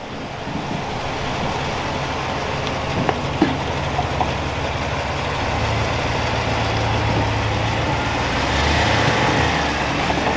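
A Chevrolet Silverado ZR2 pickup runs its engine at low, steady revs while crawling a tight, rocky off-road trail, a continuous deep rumble that swells slightly toward the end, with a few faint knocks and no talking.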